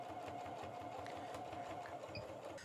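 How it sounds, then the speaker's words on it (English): A sewing machine runs a seam on a quilted two-slice toaster cover, giving a steady, fast mechanical chatter with an even rhythmic pulse, faint and continuous, with no talking. "we're going to go ahead and sew again a nice generous 1/4 inch there so that we don't have any seam sewing"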